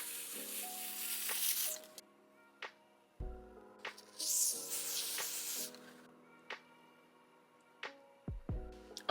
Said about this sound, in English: Just gonna spray some directly on my forehead